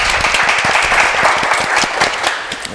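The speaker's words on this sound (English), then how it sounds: "I'm clapping up for y'all." Audience applause at a live show taping: a loud, dense burst of many people clapping together, close and sustained for the whole moment, easing only slightly at the end.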